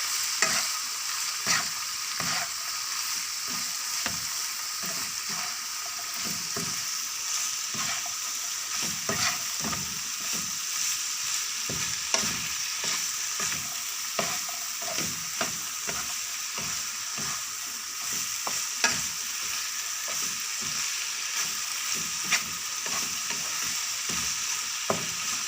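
Cabbage stir-fried in a pan for pancit Cabagan makes a steady bright sizzle throughout. A spatula scrapes and clacks against the pan in a rapid, uneven rhythm that stays close and continuous, with no voices.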